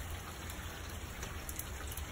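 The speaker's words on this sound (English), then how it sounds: "it rains all day" Steady rain falling outdoors during a cook on a Shirley Fabrication smoker, a soft even hiss of drops on surfaces, faint and continuous, with no voices.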